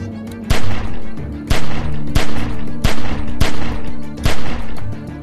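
Loud gunshots fired at a window in The Walking Dead game, a steady series of about eight sharp blasts spaced roughly half a second to a second apart, close and alone.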